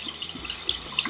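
Running water rinses a K&N cone air filter from the inside out, a short, steady splashing hiss with brief droplet spatters.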